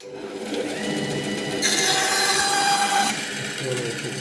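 A band saw with a newly replaced blade whines steadily while cutting wood, its pitch rising sharply into a harsher cutting tone midway before settling back to a running hum.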